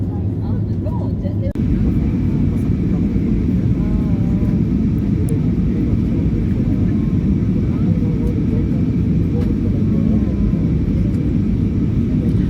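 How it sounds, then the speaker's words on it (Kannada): Airplane accelerating down the runway and taking off on a night flight from Kochi to Bangalore, a loud steady engine roar and rumble heard from inside the cabin, continuous throughout. "ಫ್ಲೈನ್ನ ತುಂಬ ಸ್ಪೀಡ್ ಮಾಡಿ ಟೇಕ್ ಆಫ್ ಆಯಿತು"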